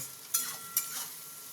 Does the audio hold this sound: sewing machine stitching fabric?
no